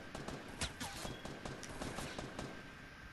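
Rapid bursts of gunfire in the video game Fortnite, a dense crackling fusillade of overlapping shots, faint and distant-sounding throughout, with no talking.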